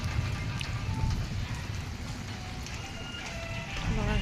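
Rain falls steadily outdoors during a monsoon downpour, a dense continuous hiss with patters on surfaces. It is moderately loud and unbroken, with faint background sounds beneath it.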